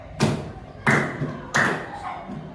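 Children clap their hands together on cue in a classroom, three sharp bursts spaced about two-thirds of a second apart, each trailing off quickly, with faint room noise in between.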